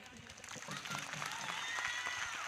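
Church congregation clapping hands during a lively service, a dense wash of applause rising slightly in intensity and holding steady, with crowd noise and voices mixed underneath.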